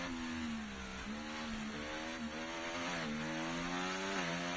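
Aston Martin race car engine in a racing video game at Las Vegas, holding a steady loud drone as it accelerates, its pitch climbing and dipping through gear changes, alone without talk.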